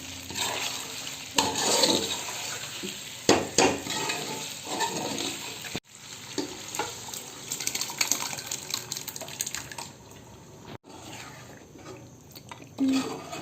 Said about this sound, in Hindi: अब हम इसमें दाल मिक्स करने जा रहे हैं।